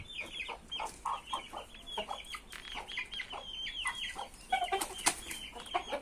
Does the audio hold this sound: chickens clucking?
yes